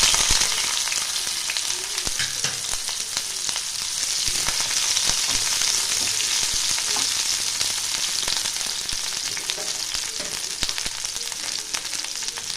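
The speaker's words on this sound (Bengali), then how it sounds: "এবার আমি দুটো করলা মিডিয়াম সাইজে নিয়েছি, ওইটা কেটে নিয়েছি লম্বা লম্বা করে। এটা ভেজে নেব।" Long slices cut from two medium-sized bitter gourds fry in hot oil, giving off a steady, loud, dense sizzle with scattered crackles and no voices.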